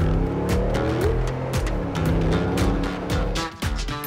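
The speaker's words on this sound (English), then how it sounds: "So we're gonna haul ass here in the G-Wagon a little bit." A Mercedes G-Wagon is driven fast, its engine roaring and accelerating through repeated surges, with passing whooshes and tire noise, loud and close throughout.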